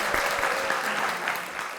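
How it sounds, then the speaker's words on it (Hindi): Brief, steady audience applause in a talk-show studio, a continuous wash of clapping heard at moderate level throughout. "आपके लिए तालियां होनी चाहिए"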